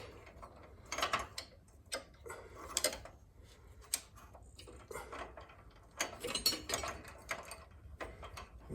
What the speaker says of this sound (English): See if we can get this, some tension on this ratchet so it doesn't just spin back.